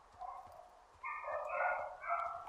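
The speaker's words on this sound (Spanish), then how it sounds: "el sonido de perros de fondo." Dogs bark and yelp in the Firewatch video game, a cluster of fairly loud, drawn-out barks heard alone without talk.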